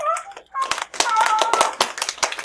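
A classroom of students claps in a brief, soft burst of scattered hand claps up close, with a voice briefly heard before the applause.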